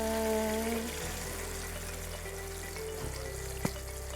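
Food sizzles steadily in a hot pan, with constant crackling frying and a low background hum, plus a brief clink near the end.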